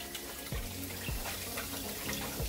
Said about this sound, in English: So you just run some cold water and rinse it all out.